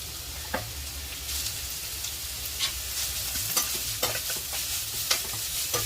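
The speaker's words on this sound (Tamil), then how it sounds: "கொஞ்சமா எண்ணெய் சேர்த்துக்கிறோம். வெங்காயம் போட்டுக்கிறோம்." Onions frying in a small amount of oil in a pan give a steady, close sizzle, with occasional stirring scrapes and light clicks over the hiss.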